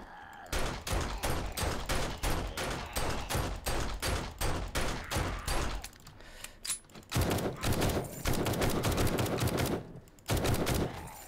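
Gunfire in the 7 Days To Die video game: a fast run of loud, evenly spaced shots, a short pause, then further bursts. Sharp and close, with no talking.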